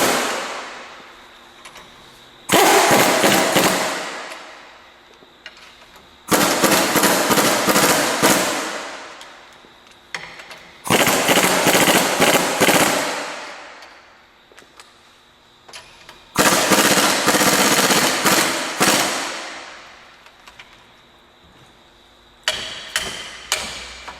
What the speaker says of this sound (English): Now I'm going to tighten the spring compressor down. I'm going to walk it back and forth.